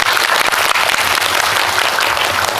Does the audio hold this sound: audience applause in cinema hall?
yes